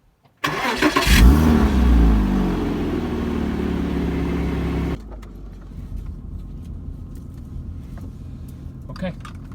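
A Porsche 987 Gen 1 engine cranks and fires with a loud, close burst, revs briefly, then settles into a steady idle that drops to a quieter hum partway through.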